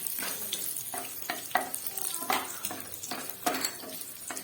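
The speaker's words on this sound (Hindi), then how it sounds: "गोटा मसला टिके भाजी" Whole spices such as bay leaf, cinnamon, cardamom and peppercorns frying in oil, with a soft sizzle under repeated rhythmic scrapes and clinks of a spoon stirring in the pan.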